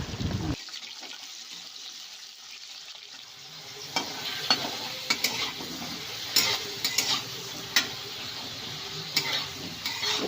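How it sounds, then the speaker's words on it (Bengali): Cut potatoes frying in hot oil as they are turned, a steady loud sizzle with repeated sharp scraping clinks of the spatula against the pan. "আলুটা উল্টে পাল্টে লাল লাল করে ভেজে নেব।"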